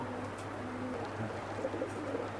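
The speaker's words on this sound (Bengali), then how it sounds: "এই দুটা কবুতর হলো শিয়ালকুটি কবুতর" Sialkoti pigeons kept with their young give soft, low coos over a steady background hum. The calls are faint and intermittent.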